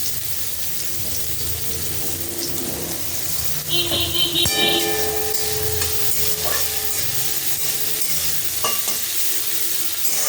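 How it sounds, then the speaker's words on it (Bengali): Oil sizzles and crackles steadily in a pan as bitter gourd fries, with a few clinks of a spatula stirring now and then. "উচ্ছেটা আগে লাল করে ভেজে নিই"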